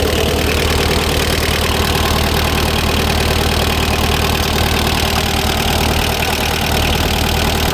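A Kubota L2600 26-horsepower four-cylinder diesel tractor engine idles close by, a loud, steady chugging rumble that never changes pace.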